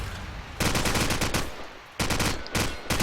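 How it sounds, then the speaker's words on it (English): Automatic gunfire in Call of Duty 4 during a competitive online match, with two loud sustained bursts of rapid shots separated by a short pause, then a brief final burst, close and dominant. "Roxas firing off a couple of shots"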